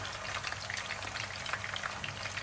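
Chicken kofta frying in oil in a pan, a steady close crackling sizzle with scattered sharper pops throughout, no voices.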